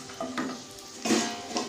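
Dried red chillies, about eight of them, frying in hot oil in a pan for a Tamil-style tomato pickle, giving soft sizzling with a few stirring scrapes and clinks of a spoon against the pot.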